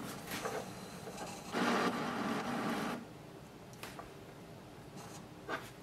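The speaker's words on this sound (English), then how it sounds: "Place the black ink cartridge" A black ink cartridge is slid into an HP DeskJet printer: brief plastic scraping and rubbing, one longer sliding scrape in the middle, then light taps and clicks, close and fairly quiet.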